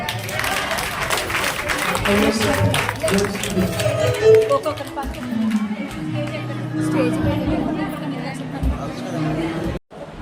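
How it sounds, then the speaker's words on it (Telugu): A church congregation applauds together, a dense, steady wash of clapping mixed with crowd chatter and voices that holds for about ten seconds, then cuts off abruptly. "చప్పట్లు కొడదాం."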